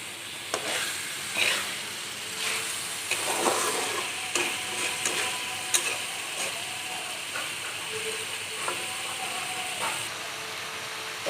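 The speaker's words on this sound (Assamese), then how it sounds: "অকণমান ভাজি লৈছোঁ।" Potatoes and eggs frying with spices in a pan give a steady close sizzle and hiss, broken by scattered scraping and tapping of a stirring utensil, with no voices.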